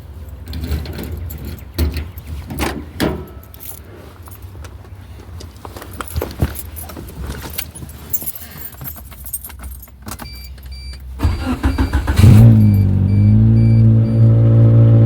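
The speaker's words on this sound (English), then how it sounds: "let's see how the Swift starts on cold start when it's actually cold and mega cold outside" A 1989 Suzuki Swift GTi cold start on a freezing day: keys jangle and clatter for several seconds, then the starter cranks briefly and the engine catches into a steady loud idle up close.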